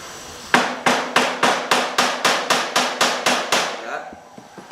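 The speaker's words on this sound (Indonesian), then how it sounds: "Ya, kita pukul aja ini dikit nih." A hammer taps a metal part of an AC manifold gauge about a dozen times in an even, steady rhythm, each strike sharp and close, with no talk.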